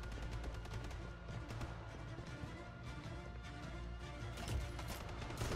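Rapid gunfire from a free-to-play Call of Duty-style shooter rattles in dense, continuous bursts across a busy, loud battle din with no clear talk over it.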